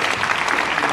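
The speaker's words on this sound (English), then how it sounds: "Let's give a round of applause here." Seminar audience clapping in a thick, even burst, loud and close, filling the short moment without any speech on top.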